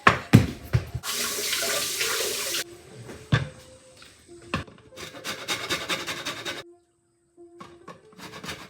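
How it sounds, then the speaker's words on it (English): Two small oranges rubbed against a handheld cheese grater, giving bursts of scratchy rasping with brief knocks and pauses between strokes, close and alone. "this is so much easier to zest than lemon"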